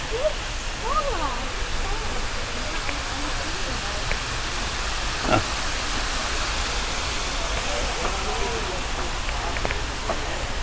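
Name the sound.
aerated water pool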